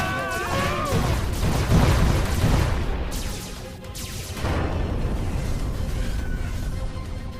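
A cartoon spaceship attacks in a barrage of loud rapid gunfire and booming blasts, dense and continuous with a few warbling electronic tones mixed in.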